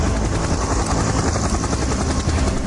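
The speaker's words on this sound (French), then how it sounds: "Ils décident de louer un hélico pour se rendre sur l'île d'Eiao." Helicopter flying toward Eiao island, a steady loud rotor and engine roar held constant throughout.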